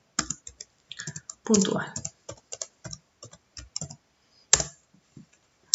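Keys clicking on a computer keyboard while a layer name is typed in image-editing software, a quick uneven run of close taps with a short burst of speech in the middle.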